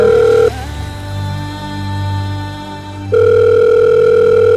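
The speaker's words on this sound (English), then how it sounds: "there was a phone in there as well, and better still, it's ringing." A loud electronic telephone ring with a steady tone that cuts off briefly and then resumes, over a low hum.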